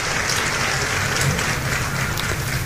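Applause outside a tent on a night at a campsite, heard as a steady, hissing patter of many hands, even and moderately soft with no single claps standing out.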